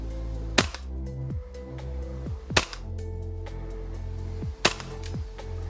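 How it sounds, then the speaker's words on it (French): Three sharp, crisp shots from a Tokyo Marui Glock 34 gas blowback airsoft pistol ring out about two seconds apart, each snapping close and loud over a quiet room hum. "Test de tir du Glock 34 Tokyo Marui."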